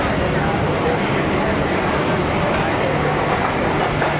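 The inside of a running Ravi Express passenger coach gives a steady, dense rumble of wheels and carriage noise that stays loud throughout, with someone speaking over it.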